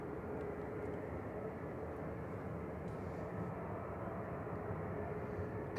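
A TUI jet airliner departs Manchester Airport, heard as a faint, distant, even engine rumble that continues steadily without voices.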